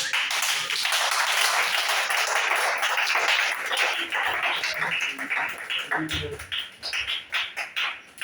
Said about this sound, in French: Acclamez pour lui quand même.